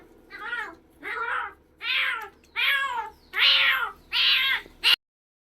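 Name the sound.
cat meowing from inside a well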